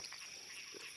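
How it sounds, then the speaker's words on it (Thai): Frogs croaking in a flooded rice paddy during a rainy night, with faint, short croaks rising over steady insect and field hiss, distant and low in level. "โอ้เสียงกบ"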